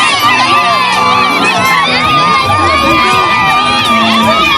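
A dense crowd of Chadian compatriots living in Gabon cheers the head of state outside Libreville airport, with loud continuous shouting, whoops and children's cries and no pauses.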